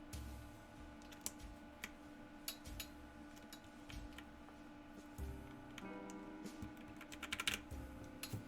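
Keystrokes clatter in a steady, brisk run on a custom mechanical keyboard, an Iron165 SE build, with crisp close clicks and a few louder spacebar thocks under faint room hum.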